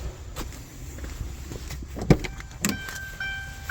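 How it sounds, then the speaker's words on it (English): The automatic trunk lid of a 2006 Lincoln Town Car Signature Limited pops open with a short latch clunk and a brief motor whir, followed by a thump and light mechanical rattles nearby. "So here, let's pop the trunk."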